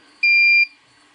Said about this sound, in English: We'll hear an audible beep, and then the setting will be saved to internal memory